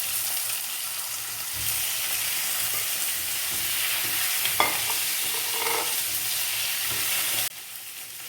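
Potatoes fry with tomato in a pan for a garlic honey potato dish, giving a steady close sizzle with spatula stirring and scraping, ending abruptly with no talking.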